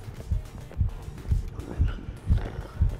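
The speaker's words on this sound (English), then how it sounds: "because I don't hear the heartbeat anymore." A heartbeat warning cue from the horror video game Lunch Lady thumps as a low, regular double pulse about twice a second. It stays steady and prominent, with no voices over it.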